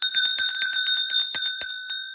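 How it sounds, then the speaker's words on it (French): A small hand bell rings alone in quick, bright repeated strokes, clear and close, each strike leaving a sustained metallic shimmer over the short burst. "J'ai la petite cloche, je n'ai pas la grande cloche."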